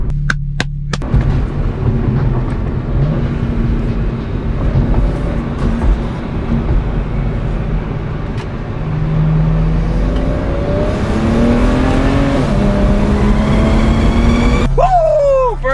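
BMW 335i with a catless downpipe exhaust revving hard, loud and close, with rising and falling engine pitch, turbo spool whistling, and sharp pops and crackles as the revs drop.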